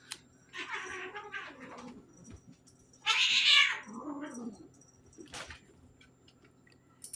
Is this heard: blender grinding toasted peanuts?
no